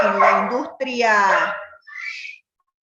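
A pet dog barking and yelping close by indoors during an online class: a few drawn-out, tonal barks and whines in quick succession, loud and near.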